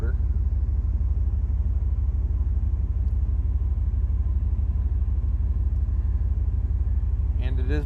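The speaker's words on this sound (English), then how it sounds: "Hopefully you guys can hear that over the rumble of the motor." Steady low rumble of a 1971 Chevrolet Corvette engine idling with the air conditioning running, a continuous near drone under a brief voice near the end.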